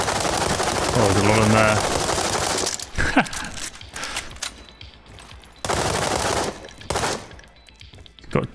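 Rapid automatic gunfire bursts in the shooter World War 3, loud and close, with a voice speaking between bursts.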